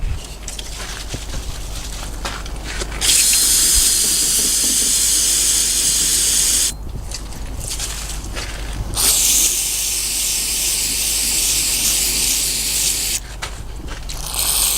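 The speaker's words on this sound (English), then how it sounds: "take some carb brake cleaner, spray it down in there, clean it up real good" Carb and brake cleaner hisses from an aerosol can onto a filthy diesel seventh injector: two long, loud spray bursts with short pauses between them, then the start of a third, all close up.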